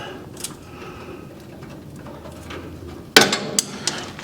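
A metal socket falls and clatters, a sharp bright impact followed by a few quick bounces, close and loud, during repair work on the grain feed drive of a Case IH grain drill after quieter low background noise.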